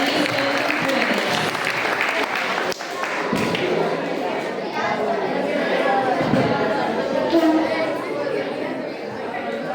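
Sustained audience applause at a school essay and speech contest, a loud, continuous wash of clapping mixed with crowd chatter and occasional thumps, with voices talking through it.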